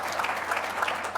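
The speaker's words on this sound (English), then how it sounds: "Round of applause, please." Audience applause at a startup pitch competition, a steady wash of many hands clapping at moderate volume with no talk over it.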